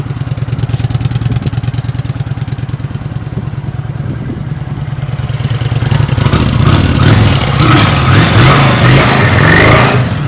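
A Kawasaki VN900 motorcycle idles loudly up close, then its engine is revved, rising into a rougher, louder roar with strong intake noise over the last few seconds.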